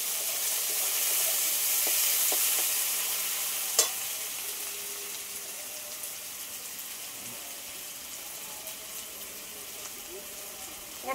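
Chopped potato frying in hot oil with dried chilli and black cumin, a steady close sizzle and hiss throughout with a couple of brief utensil knocks, no talking.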